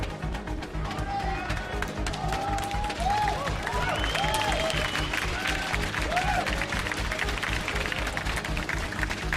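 A large esports arena crowd cheers and applauds steadily at the start of a League of Legends EU LCS Spring 2018 match, G2 Esports versus Misfits, a dense roar with a commentator talking over it.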